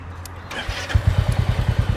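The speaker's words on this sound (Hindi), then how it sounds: "इसको ऑन करते एक बारी स्टॉक एग्जॉस्ट की साउंड सुनाता हूँ" A Royal Enfield Bullet motorcycle with its stock exhaust cranks and fires up close by, settling into the classic slow, evenly spaced thumping idle pulses.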